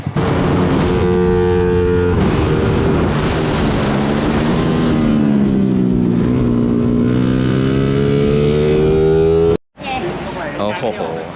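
A Kawasaki ZX10 sportbike howls around a riding track, its engine note loud and close, climbing steadily in pitch before a sudden brief cut and a fresh surge as it pulls again.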